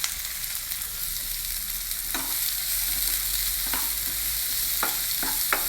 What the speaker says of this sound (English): First saute the onions a little bit.